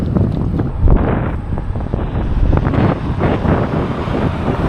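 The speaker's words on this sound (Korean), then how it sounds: "원래 보통 이 오후 시간대 바람이 좀 셉니다" Strong afternoon wind buffets the microphone while cycling along a prairie highway in Canada, a loud constant rumbling roar with gusty surges and no voices.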